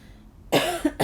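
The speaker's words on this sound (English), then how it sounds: "Sorry, a bit of a cough there." A person gives a short, sharp cough, then a second briefer one just after, close by with no other sound around it.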